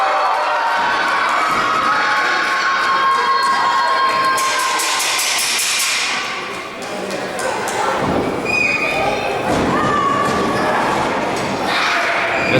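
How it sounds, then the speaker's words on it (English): A loud crowd cheers and shouts throughout a live wrestling match in Palatka, a steady roar with whoops and whistles, dipping briefly midway, under a commentator's talk. "Trying to get the crowd in Palatka even louder than they've been all night."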